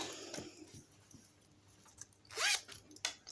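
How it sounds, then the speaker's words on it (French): A zipper being pulled on a small sewn fabric pouch, a quiet rasping zip with a louder, brighter pull near the end amid soft handling rustles, close up with no talking. "On a mis notre fermeture éclair."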